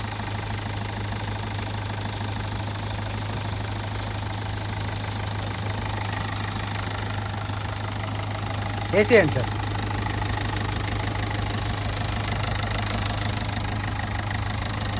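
A 2015 Toyota Etios Cross 1.4-litre diesel idles nearby with a steady, even clatter and low hum throughout, and someone speaks briefly partway through.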